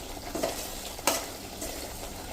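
Quiet, steady sizzling of vegetables frying in a pan, with a few soft scrapes of a spoon stirring them close by.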